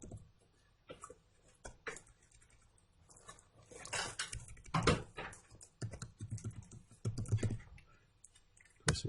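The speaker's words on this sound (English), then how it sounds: "So I'm going to start typing this in." Irregular bursts of typing on a computer keyboard, quiet taps and clicks coming in clusters with short pauses between them, close by.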